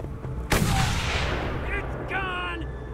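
A sharp, loud gunshot-like blast with a rumbling tail in the video game Mad Max, followed by scattered game sound effects and faint chirpy tones.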